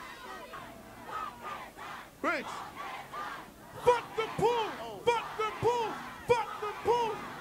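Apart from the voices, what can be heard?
crowd chanting at a press conference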